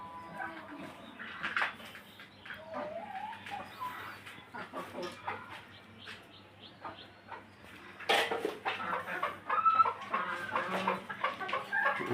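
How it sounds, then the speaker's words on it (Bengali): Newly bought farm chickens clucking and calling in a rural yard, scattered bursts of close, moderate clucks, livelier and louder toward the end, with faint background hum. "এই হলো আমার মুরগি"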